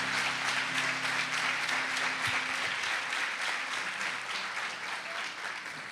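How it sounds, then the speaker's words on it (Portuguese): A church congregation applauding, a dense, steady clatter of many hands close by that fades slightly toward the end, with no talk. "Vamos aplaudir o Senhor."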